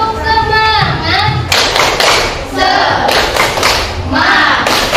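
A classroom group does a spirit clap together in a quick rhythmic pattern, loud and close, with voices chanting and calling out between the bursts of claps.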